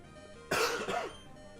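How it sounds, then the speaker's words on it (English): A single harsh cough from a person with a chronic cough, close and fairly loud, with a brief throaty follow-through, surrounded by quiet. "By the way, I cough chronically."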